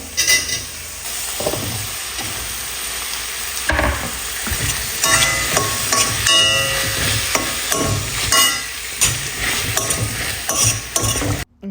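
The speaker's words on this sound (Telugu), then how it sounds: "అవి అక్కడ క్యాప్సికమ్ అవి ఫ్రై అయిపోతూ ఉన్నాయి" Capsicum sizzles in a frying pan, a continuous hiss broken by repeated scraping and clattering strokes as the pieces are stirred, loud and close.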